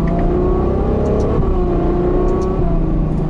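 A Ferrari GTC4 Lusso accelerates hard on a road rally, its engine revving loudly and continuously with rising pitch, heard close up without talk.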